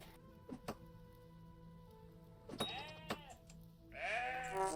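Goats bleating in the survival game Vintage Story, several quavering calls at moderate distance, the last one longer and louder, over faint rain and background ambience.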